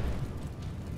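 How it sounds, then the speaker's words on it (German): Explosion in the video game Just Cause 3: a brief, heavy low rumble that fills the moment, loud and without any talk. "Die Explosion ist fast schief gelaufen."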